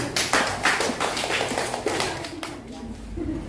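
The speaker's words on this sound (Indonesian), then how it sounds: "Tepuk tangan untuk partisipasinya." A classroom of students claps for a group's participation during a lesson, with sharp, uneven individual claps scattered across a few seconds and voices talking alongside them.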